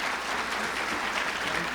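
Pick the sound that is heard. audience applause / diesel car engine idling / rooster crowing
audience applause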